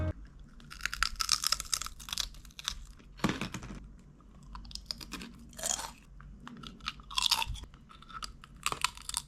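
Crunchy potato chips being chewed close up, with repeated sharp crunches in bursts and short pauses between bites.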